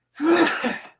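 A single sharp human sneeze, loud and close, with a brief breathy burst fading out within about a second.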